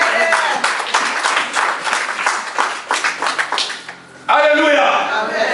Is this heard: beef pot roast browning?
no